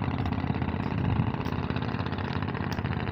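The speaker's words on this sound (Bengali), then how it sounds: "ওই যে দেখুন ট্রলার যাচ্ছে" A trawler boat's engine drones steadily on the Dhaleshwari river, a continuous low mechanical rumble with an idling chug that holds at an even level throughout.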